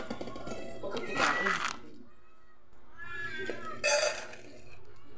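Several cats meow at feeding time in two short bursts, close and clear, with someone talking to them in between and around the cries.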